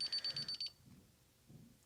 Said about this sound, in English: But if I trip this motion, then it's going to set off the alarm.